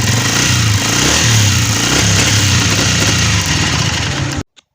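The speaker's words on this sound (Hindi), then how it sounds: "मैं आपको इसकी रेस सुनवाता हूं।" A Honda 125 motorcycle engine with a misfiring and starting problem revs loudly and steadily up close, its throaty roar rising and falling for several seconds before cutting off abruptly.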